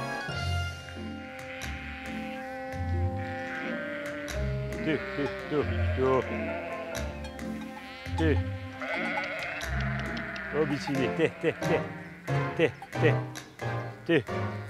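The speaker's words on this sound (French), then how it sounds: "C'est quand même très curieux comme animal, la brebis." Ewes bleating in the mountain Restonica valley, with repeated wavering calls rising and falling over about fifteen seconds, mixed with voices and other layered sound.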